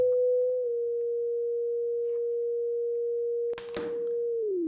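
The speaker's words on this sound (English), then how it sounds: "This is a sine wave." A steady pure electronic tone holds one pitch, then briefly interrupted by a short burst of noise before the tone slides downward at the end.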